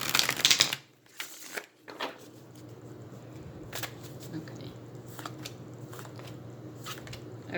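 Tarot cards being shuffled by hand in a few short bursts of papery riffling and clicks, close and quiet, with pauses between them.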